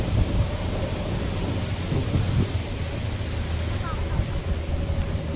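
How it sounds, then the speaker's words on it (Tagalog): Strong wind buffets the microphone beside the Dupinga River in Gabaldon, Nueva Ecija, a steady broadband roar with low rumbling gusts that holds through the whole stretch, with a low engine-like hum beneath. "malakas ang hangin dito"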